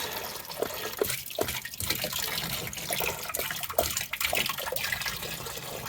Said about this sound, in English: There you are, glugging away. Filling up our containers.